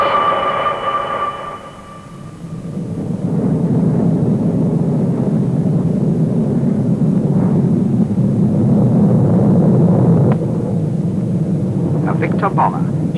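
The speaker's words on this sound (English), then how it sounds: "A distinctive Sea Vixen naval fighter, which leads in a stablemate, the Comet 4" A Sea Vixen naval fighter leading a Comet 4 airliner roars past at the Farnborough air show, a broad sustained jet rumble swelling and holding, with a brief commentator voice at the start.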